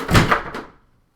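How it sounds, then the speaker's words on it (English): Doors are pulled shut indoors, a brief close sequence of muffled thuds and a latching knock that quickly fades to silence, with no voices. "Let me close the doors here"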